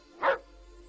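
A single short dog bark rings out once, fairly close and alone, over faint background hum on a night in Bethlehem.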